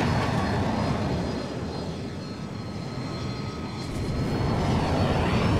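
An F-35 jet in Battlefield 2042 roars past, a loud, broad rushing engine wash that dips slightly in the middle and swells again toward the end.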